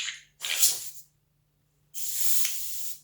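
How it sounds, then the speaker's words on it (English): An airbrush sprays a paint wash as a fine mist onto a model figure's hair in two short, sharp hissing bursts, the second one longer. Each stops cleanly, with silence between, and the sound is close. "the problem with using the washes through the airbrush is it pretty much comes out like a mist."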